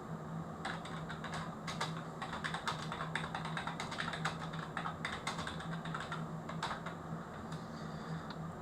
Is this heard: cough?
no